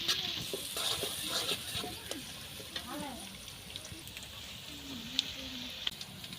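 Chopped onion and green chilli fry in a pan over a village clay stove, giving a steady soft sizzle and hiss with occasional stirring, partly under a voice speaking.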